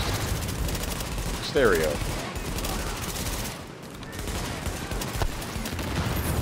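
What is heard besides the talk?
shotgun fire in video game The Division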